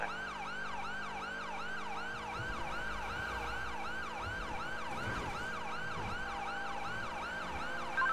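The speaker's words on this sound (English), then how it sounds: "I love how they just ignore the sirens." Police car sirens wail without a break in a GTA roleplay game, a rising and falling cycle that repeats steadily over a faint road rumble of cars.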